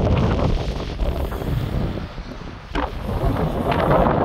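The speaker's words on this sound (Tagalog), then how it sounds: "Sobrang lakas at ang lamig ng hangin guys." Strong, cold wind blows outdoors near a docked ship, buffeting the microphone with a loud, gusty roar that dips briefly midway and then surges again.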